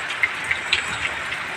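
Rain falls on a newly finished roof, a steady hiss of patter with a few sharper drops striking the surface, moderately faint and without talk.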